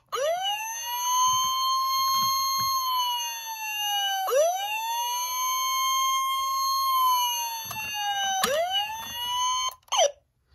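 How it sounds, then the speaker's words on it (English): A 2000 Hess toy fire truck sounds its slower electronic siren: a loud, close, buzzy rising-and-falling wail that repeats about three times, then cuts off abruptly. "so you get another siren, a bit of a slower one"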